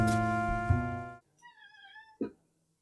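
A cat meows at a door, a few short rising calls after a loud tonal blast at the start, followed by a brief thump, close and fairly clear.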